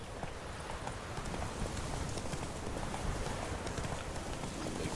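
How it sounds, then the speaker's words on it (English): Horse hooves gallop in The Witcher 3, giving a fast, continuous clip-clop drumming on the ground, fairly quiet and steady throughout with no talking. "So let's call my horse."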